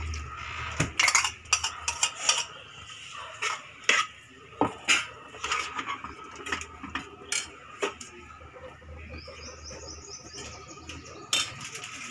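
A spoon stirs yogurt into aviyal in a cookware pot, making irregular close clinks and scrapes against the metal, with soft rustling in between and no talking.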